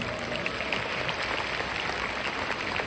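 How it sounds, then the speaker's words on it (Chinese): An audience at a speech breaks into steady applause, a soft, even wash of many hands clapping at some distance with no voices over it. "给你们自己一个掌声。"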